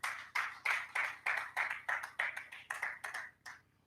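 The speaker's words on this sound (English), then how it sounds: "Round of applause for them, please." A small group claps at the end of a panel dialogue, about a dozen distinct, fairly quiet claps in an uneven rhythm that trail off after a few seconds.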